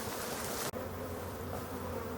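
Honeybees drone in a continuous dense buzz at a hive, close and moderately loud, with a brief dip partway through and no voices.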